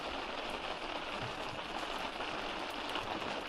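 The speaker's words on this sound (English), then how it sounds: "because it's raining so much, I may not be able to do that" Steady heavy rain pattering on the fabric of an Otter resort tent, a dense continuous hiss with scattered drop taps, close and even throughout with no voices.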